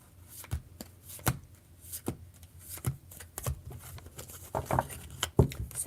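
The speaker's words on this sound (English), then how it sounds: "I'm still shuffling because I'm trying to get into the energy." Tarot cards shuffled by hand in a steady, close rhythm of soft riffling slaps and papery patter, continuing throughout with no talking.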